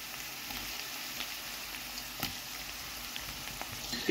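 Garlic and tomato sizzling in a frying pan, a soft, even hiss of frying that holds steady throughout with a few faint taps, quiet and without voices.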